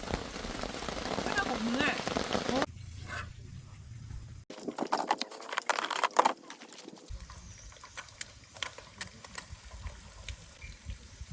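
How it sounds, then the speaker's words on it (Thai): Dense rain patters steadily on a surface at a campsite in Mae Puem National Park, with abrupt shifts in level and some clattering knocks mixed in. "ฝนตก หนักกว่าเมื่อคืนอีก"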